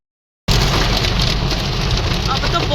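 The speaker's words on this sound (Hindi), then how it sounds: "अब तो बहुत ज़्यादा मोटे मोटे ओले पड़ने लग गए हैं" Heavy rain with large, thick hailstones pours down in a Punjab village near Moga, starting abruptly as a loud, dense, continuous clatter and roar close by.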